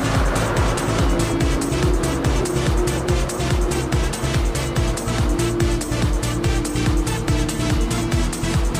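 Race cars, a Nissan Z and a Mazda RX-7 FD, roar through a Gran Turismo 6 race on Route 7, with engines droning loud and steady and tires squealing throughout, and no talk.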